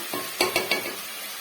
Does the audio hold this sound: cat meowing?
no